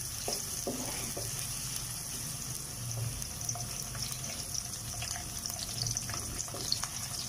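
Gentle sizzling from onions frying in a pan until light pink, soft and steady, with occasional stirring scrapes and clicks.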